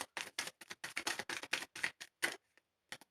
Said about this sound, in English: Give me like 3 shuffles here.